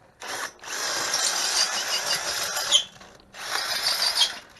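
Power drill boring holes in a triple-axle trailer for tail light wiring runs in two close, loud, whining bursts separated by a short pause.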